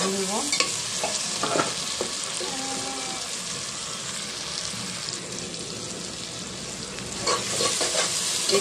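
Tomatoes frying in a pan for a duck curry, a steady close sizzle with bursts of stirring scrapes and clatter near the start and end, no talk.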